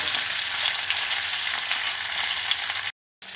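Onion, tomato, curry leaves, garlic and ginger sautéing together in hot oil in a kadai, a loud, steady sizzle that runs continuously and cuts off briefly near the end.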